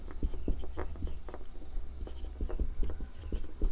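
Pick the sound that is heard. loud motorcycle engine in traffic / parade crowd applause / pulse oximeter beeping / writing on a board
writing on a board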